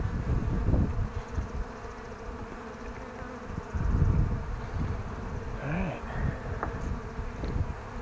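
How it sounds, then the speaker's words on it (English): Honey bees swarm and buzz around an open beehive during a summer hive inspection, a dense steady drone close to the microphone with light wind and occasional handling noise. "Wow, look at all the bees."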